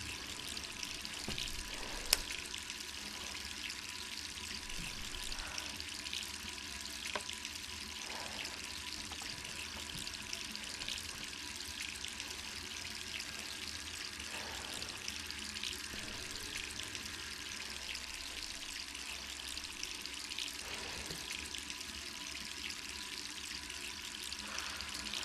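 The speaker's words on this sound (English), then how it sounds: "Wait, is the water still on?" A water tap left running in the Resident Evil 3 Remake game, a steady faint hiss of flowing water that continues unbroken, with occasional soft clicks over it.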